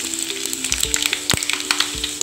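Mustard seeds and dried chilies spluttering in hot coconut oil in a pan, a steady close sizzle broken by sharp pops and crackles, with no voices.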